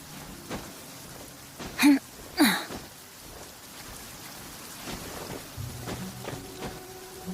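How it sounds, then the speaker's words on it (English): Steady rain falls throughout an outdoor scene in the video game Genshin Impact, a constant even hiss broken by two brief louder bursts early on, with no voices. "It always rains when I go on an adventure."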